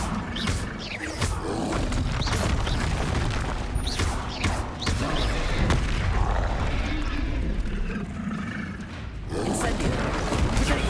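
Repeated fiery spell blasts from Incendio casts in Hogwarts Legacy, loud bursts and whooshing roars recurring through combat noise, with a voice talking over the action.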